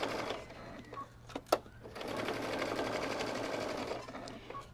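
A sewing machine runs a steady, close stitch along robe fabric for a kimono, with a back stitch at the end of the seam, after a few brief handling clicks.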